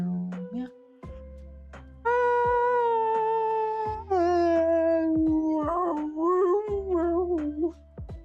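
A person vocally imitates a dog howling, sliding through long, drawn-out wavering howls and whimpers, several in a row, close and clear with short pauses between them.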